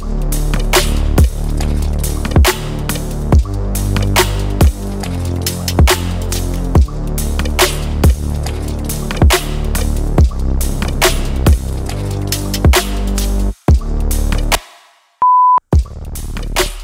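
Deep, wide chill bass from Ableton's Analog synth, detuned unison saw waves with a sub layer under a low-pass filter, playing a steady pulsing pattern of loud repeated notes before cutting out near the end.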